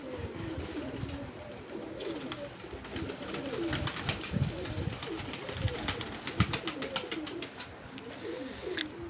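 Pigeons coo steadily from close by on a rooftop loft where young birds are being trained, with soft overlapping calls throughout and faint background rustle.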